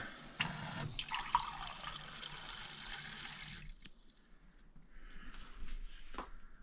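Well water poured from a tap into an old thrift-store cup, a steady near stream lasting a few seconds, then quieter splashing and trickling with a brief gap and a short clatter near the end.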